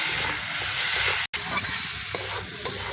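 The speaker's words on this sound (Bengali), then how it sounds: "ভালো করে মশলাগুলো ভেজে নেব।" Turmeric, dried chillies and other spices fry with potatoes in a pan for a ridge gourd curry, giving a loud, continuous close sizzle and stirring hiss that briefly cuts out, then resumes.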